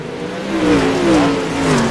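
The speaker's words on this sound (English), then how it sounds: "Listen to these cars as they come at it down the back straightaway." Pro late model race cars come down the back straightaway, a loud continuous engine roar with rising and falling pitch as the pack passes close by, with no talk over it.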